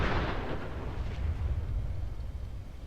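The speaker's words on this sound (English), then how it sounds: "the grenade exploded before we could actually launch any of our grenades at it" A grenade from an M79 grenade launcher mod in Fallout 4 blows up in one heavy, rumbling blast that fades into a long low roar, close and loud, with no voices over it.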